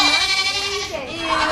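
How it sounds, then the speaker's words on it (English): A goat among farm animals at a petting visit with children lets out a long, wavering, nasal bleat close by, sustained throughout with a slight pitch shift midway and no talking over it. "Goat. Where's it? He's taking the one that's making noise."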